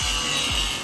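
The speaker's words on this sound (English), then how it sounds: "He's sawing it down so we get a flush fit with the roof." A kitchen canopy hood is sawn down to sit flush on a shipping container roof, a loud, continuous rasping cut filling the short moment with no voices.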